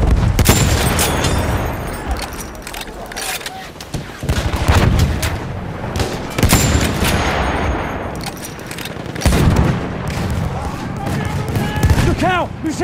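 Enemy machine gun fire rattles through a war video game battle, repeated loud bursts and booms mixed with scattered shots and intermittent voices over nearly thirteen seconds.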